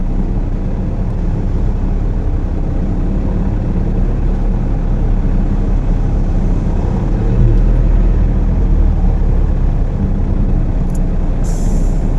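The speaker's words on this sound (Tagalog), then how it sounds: "Hindi mo akalain ganito pala ka traffic." Heavy, slow-moving road traffic on the SLEX southbound expressway, a steady loud low rumble of engines and tires from nearby vehicles with a brief hiss like an air brake near the end.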